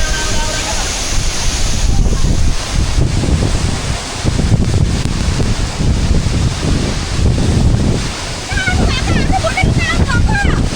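Ghorle waterfall in Panchkhapan, Nepal, roars as a loud, steady broadband rush with gusty wind buffeting the microphone, while people talk over it near the end.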